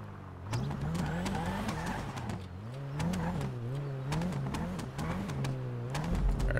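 Cars drifting at a drift session, with engines revving up and down in waves and tires skidding, heard at a moderate distance and fairly faint.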